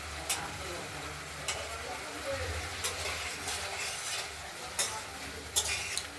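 Spice paste with cumin and ginger sautéed and stirred in a pan for a potato, tomato and pabda fish curry, a soft continuous sizzle broken by sharp scraping clacks of a spoon against the pan, with no talk.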